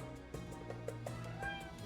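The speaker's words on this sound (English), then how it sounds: "I've got a cat." A house cat gives a few faint, short meows close by, mixed with soft thumps and shuffling in a quiet room.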